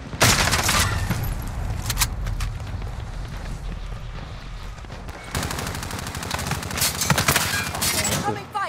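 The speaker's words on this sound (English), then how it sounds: "I'm taking fire!" Gunfire in an online multiplayer shooter video game, loud repeated bursts of shots crackling in two dense stretches with a quieter lull between, while players talk over it.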